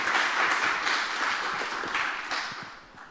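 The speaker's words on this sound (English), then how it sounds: "Give them some applause." An audience at a Python programming conference applauds, a dense wash of clapping that fades toward the end without talk over it.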